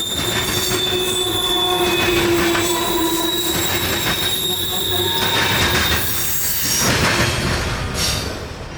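A freight train, partly carrying ethanol, rolls past up close in Florida, loud and steady, with metallic wheel squeal and rumbling railcars throughout.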